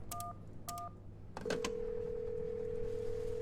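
Telephone keypad pressed in the escape game She Could Fly: two short, clean electronic beeps, then a couple of clicks and a long steady tone that holds to the end.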